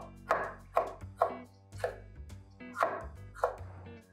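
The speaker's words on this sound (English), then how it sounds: "Okay, then we got our hot spicy jalapeno. We'll do some little slices." Knife chopping a hot jalapeno into small slices on a cutting board, about seven crisp, evenly spaced cuts sounding close and clear with no talking.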